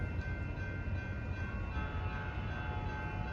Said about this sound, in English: Should have our last San Francisco bound bullet coming by pretty soon too, train 711.